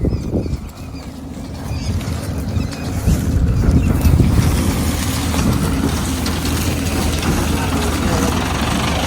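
A tractor engine runs on a Punjab farm, a loud, steady low rumble that builds after a brief dip, mixed with wind buffeting the microphone.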